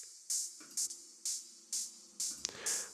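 Open hi-hat sample with EQ cutting lows and highs, struck repeatedly in an irregular pattern, each hit a short, bright, airy wash that decays quickly; quiet and without voices.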